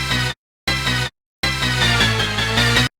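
A music sample from a Eurobeat track plays in three loud bursts: two short stabs separated by silences, then a longer dense stretch of layered synth and beat that cuts off sharply.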